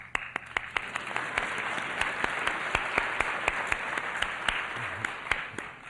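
An audience at a 1979 university lecture at the University of Georgia breaks into applause, a fairly sparse, crisp run of individual hand claps that stays moderately loud and steady throughout.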